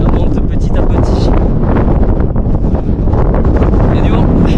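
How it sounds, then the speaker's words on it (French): Strong wind gusts buffet the microphone high on Kilimanjaro's Machame route at around 4,100 metres, a loud, steady roar without letup throughout. "Il y a du vent."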